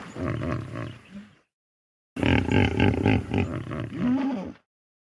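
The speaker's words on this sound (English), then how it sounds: "The hippo says honk honk." Hippopotamus honking in two bouts, a short grunting burst followed after a pause by a longer series of deep rhythmic honks and wheezes, close and clear with no talking.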